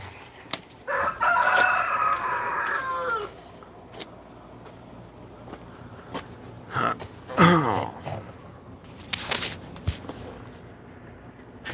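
Chickens in a yard cluck and a rooster crows loudly nearby in several separate bursts, with scattered knocks and rustling between the calls and a few brief spoken remarks.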